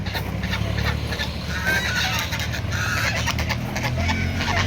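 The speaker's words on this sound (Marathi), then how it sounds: "अरे बापरे लयच गागत आहे बघा हे बदक पाण्यामध्ये आहे" Several ducks on a garden pond honk and quack loudly over a steady rumbling background, calls overlapping in an irregular noisy chorus.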